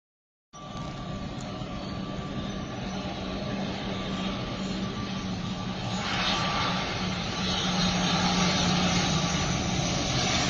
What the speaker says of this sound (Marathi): फ्लाय नाईन्टी वन विमान गोव्याकडे टेक ऑफ करताना दिसून आले